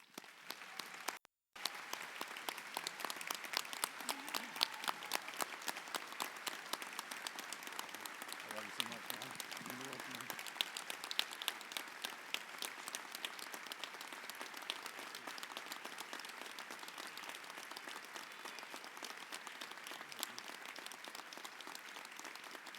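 A college commencement crowd applauds a retiring professor, steady sustained clapping from a large audience that continues evenly for over twenty seconds, fairly distant and soft.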